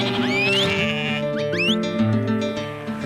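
A flock of sheep being moved by sheepdogs across wild New Zealand high country bleats loudly and close by, with several overlapping wavering calls rising and falling over a steady background.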